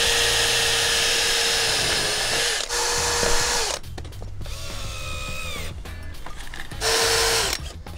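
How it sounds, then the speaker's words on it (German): A power drill whirs in long bursts, pausing between runs, pre-drilling angled holes in WPC composite decking, then drives screws with shorter revving pulses; close and loud, no talking. "mittig befestigt, schräg vorgebohrt und dann einfach verschraubt"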